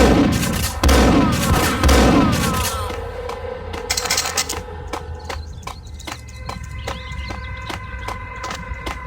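Gunfire in the Max Payne video game: a dense burst of shots in the first few seconds, then sharp single and rapid shots spaced out over a steady background hum, loud and close.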